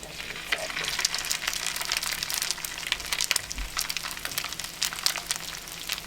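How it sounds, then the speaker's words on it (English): Crab cakes frying in a pan give off a steady, crackling sizzle with bursts of spitting oil, close and moderately loud, with no talking. "now we're doing the frying up of the crab cakes"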